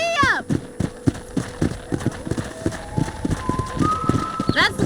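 A horse gallops in the video game Red Dead Redemption on PC, with quick, regular hoofbeats thudding close by under a voice at the start and end.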